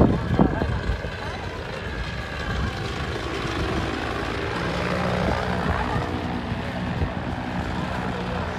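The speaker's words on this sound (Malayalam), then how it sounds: "നമുക്കൊരു ഹെലികോപ്റ്റർ മൂവ് ചെയ്യണത് കാണാം" A two-seater helicopter carrying a pilot and one passenger moves over a desert safari site near Buraidah, giving a steady engine and rotor drone with voices mixed in underneath.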